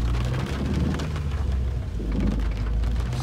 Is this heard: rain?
yes